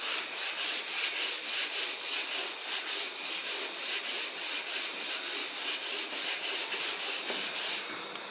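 Sandpaper is rubbed over a Honda Vario motorcycle part in quick, regular back-and-forth strokes, about two or three per second. The rasping is close and loud and stops just before the end.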